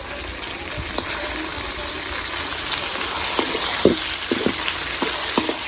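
Chopped tomato and onion sizzle steadily in a hot pan, a dense continuous frying hiss with occasional stirring clicks and scrapes, no voices.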